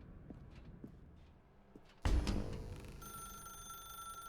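A telephone ringing in The Stanley Parable video game: after quiet room ambience with soft footsteps, a sudden loud thud gives way to a steady electronic ring tone that continues to the end.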